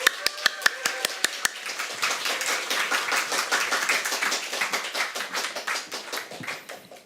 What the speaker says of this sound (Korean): 크게 박수로 맞이하시겠습니다